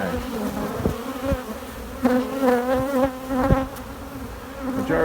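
Honey bees swarm in a steady, loud buzz during a bee rescue, the drone wavering in pitch with sharp individual bees flying close past at intervals.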